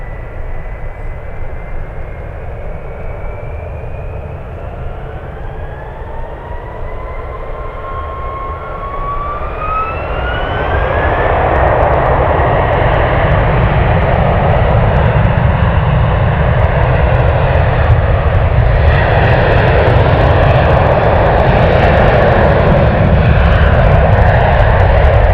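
An Alaska Airlines jet arriving at San Francisco International Airport roars in loud and close, its engine whine rising in pitch as it approaches and then building into a broad, sustained roar as it passes.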